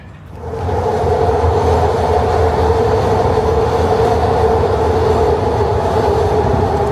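A train rumbles past close by, swelling in quickly and then holding a loud, steady roar of wheels and rail noise.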